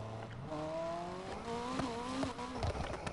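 Car engine in the racing video game Need for Speed Heat, revving up in rising, sweeping pitch steps with gear-change dips, a steady moderately loud synthetic engine tone and no talking.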